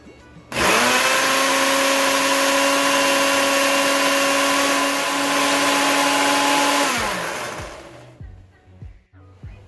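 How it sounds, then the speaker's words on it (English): A kitchen blender whirs steadily, close and loud, blending salt, black salt, sugar, chaat masala and lemon juice for a lemon mint mojito mix. It runs for about seven seconds, then winds down and stops. "salt, sugar, chaat masala, lemon juice. Let's blend it."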